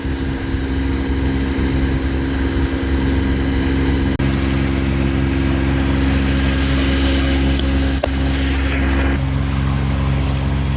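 Motorboats racing on the Brisbane River produce a loud continuous engine hum with wind and water noise, swelling slightly in the later part.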